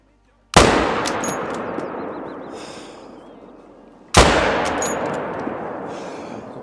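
Two loud, sharp hunting-rifle shots in theHunter: Call of the Wild, each a sudden crack followed by a long rolling echo that fades over several seconds, spaced about three and a half seconds apart.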